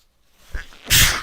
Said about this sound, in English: I'm so sorry that I'm sneezing